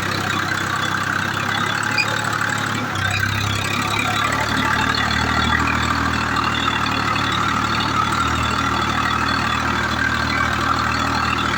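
A John Deere 5054 4x4 tractor engine idling in a farm field, a steady, loud diesel rumble that holds evenly throughout with no talk over it.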